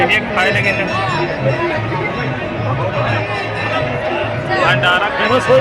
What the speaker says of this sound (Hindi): यहाँ देखिए काफ़ी ज़्यादा भीड़ है।